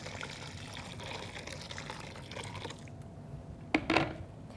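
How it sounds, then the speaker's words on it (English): Hot water poured into a bowl of mozzarella curds for stretching, a steady running pour for about three seconds, then a quieter pause and a couple of sharp splashes near the end. "And immediately add more hot water."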